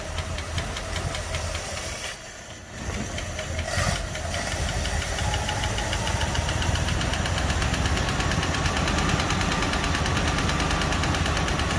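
A 1949 Packard engine runs steadily close by as its carburetor is adjusted, a loud continuous knocking drone with a brief dip in level early on before it settles into an even idle.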